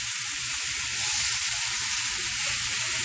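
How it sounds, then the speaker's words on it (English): Ground beef frying in a pan for beef empanadas gives a steady, close, dense sizzle that holds at an even level the whole time, with no voices over it. "the beef doesn't really stick because it has a lot of its own oil"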